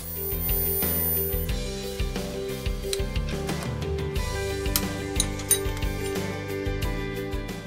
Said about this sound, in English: I took some inch aluminium angle and reduced it on the mill.